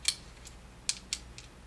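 A coin turns the screw on a Nodal Ninja CP-2 second-generation camera mounting plate, making a few faint, quiet metallic clicks and scrapes spaced irregularly over a near-silent background.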